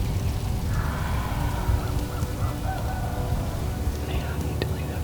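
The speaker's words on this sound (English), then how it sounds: "I started hearing a tom firing off to the south" A wild turkey tom gobbles off to the south during a spring turkey hunt, a faint, distant rattling call carried over steady outdoor background noise.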